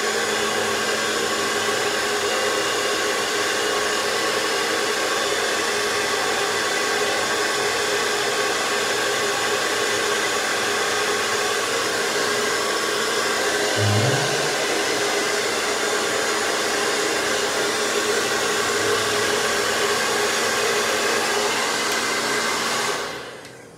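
Hair dryer running at half heat to style a mustache, a loud, steady, continuous whoosh close by with a brief shift partway through before it cuts off at the end.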